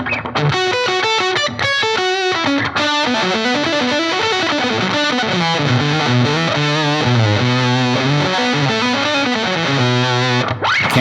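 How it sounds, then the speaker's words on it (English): Electric guitar through a pedal's gain side alone, octave effect off, giving thick saturated distortion as a busy riff plays continuously, loud and close with no pauses. "Let's hear just the gain side of the pedal without the octave."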